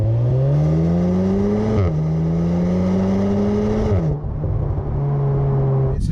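Volkswagen Golf R four-cylinder engine revving through rising pulls, with two sharp drops in pitch between climbs as if shifting gear, loud and close, no voices.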